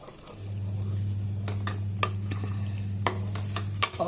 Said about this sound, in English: I'm going to give it a stir and let it cook till the oil separates again.